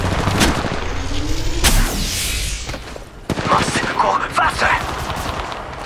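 Rapid bursts of gunfire in the Apex Legends Mobile battle royale shooter, loud and close, stacked in dense volleys with booms and impacts throughout.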